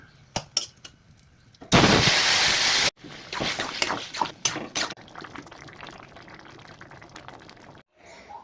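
Bay leaf, cumin and dried chili are dropped into hot oil for a fish curry. A loud burst of sizzling hiss lasts about a second, then fades into scattered crackles and pops with brief clatter.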